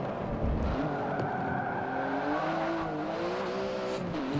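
A tail-happy Porsche race car in Forza 7 revs hard with a steady engine drone and rising pitch sweeps, tires squealing and skidding through a corner, loud and close, with no talk.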